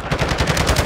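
Rapid automatic gunfire in Call of Duty: Modern Warfare II multiplayer on Xbox Series X, a dense burst of shots loud and close for under a second.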